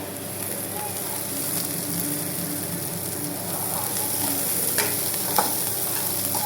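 Mushroom pepper dry is stirred in a pan with onions, curry leaves and chillies, a steady close sizzle of frying under scraping stirring strokes throughout.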